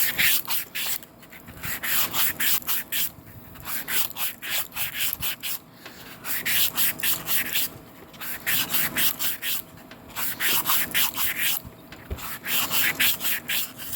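Hand honing of an engine cylinder bore, pressed hard and worked around in one direction to cut deep scratches, giving loud, steady rhythmic rasping strokes in repeated bursts with brief pauses, close up and without talk.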